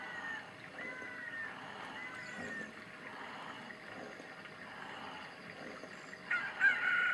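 A rooster crows at dawn in the Zelda Ocarina of Time video game, heard against quiet game ambience, with a loud crow rising near the end.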